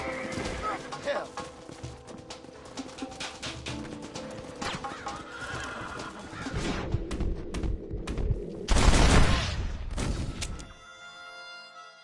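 Horses neigh and hooves clatter in a cowboy video game, mixed with game sounds and character voices, building to a loud burst near the end before dropping to a quieter tonal tail.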